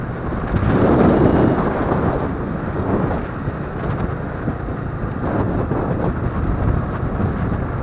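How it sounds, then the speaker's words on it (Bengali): Rain pours steadily on a winding hill road during a motorbike ride, a dense, continuous hiss with a low rumbling undertone of thunder and wind, no voices. "বৃষ্টি পড়তেছে মনে হয়"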